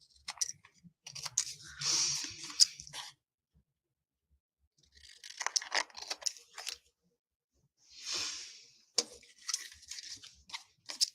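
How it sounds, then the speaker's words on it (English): Scissors snip around a stenciled picture for a papercraft card, with three bursts of close crisp cutting and rustling separated by near-silent pauses. "And then you just come in and cut it right to the picture."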